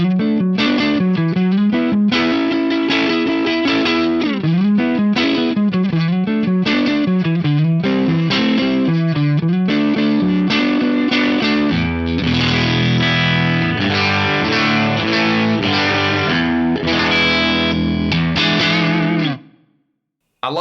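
Electric guitar through a MEGA FM9 modeler's 5F8 Tweed amp model with reverb plays a gritty, compressed riff of loud chugging and ringing chords, continuous for about nineteen seconds before cutting off.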